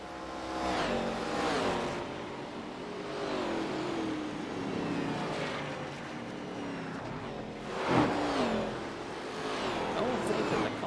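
Race cars roar around Homestead-Miami Speedway, engines revving and shifting in overlapping waves, with one louder pass near the end, under steady commentary.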